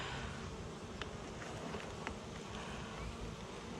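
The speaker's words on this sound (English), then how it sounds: "I don't want you to crush any little bees" Honey bees buzz steadily around stuck-together beehive comb frames, a continuous close droning hum with a few faint clicks, no voices.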